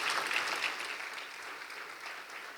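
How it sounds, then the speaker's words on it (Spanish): A church congregation gives a sustained round of hand clapping during a morning service, a soft, even wash of many hands that gradually tapers off. "Dale una ofrenda de palmas al Rey de Reyes."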